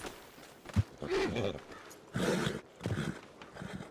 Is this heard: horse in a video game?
yes